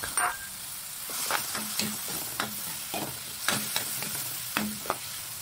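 Pork sizzles in a hot pan with soy sauce, a steady frying hiss broken by repeated scraping stirs of a utensil against the pan, close and moderately loud with no talking.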